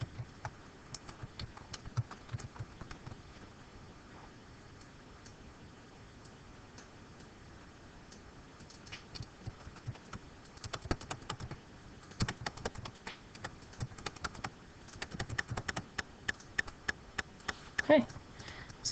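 Computer keyboard keys tap in irregular light clicks, sparse at first then denser toward the end, mixed with a person talking.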